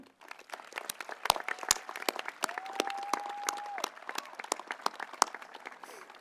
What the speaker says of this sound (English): Let us please pause to applaud their invaluable contributions to the young adults graduating today.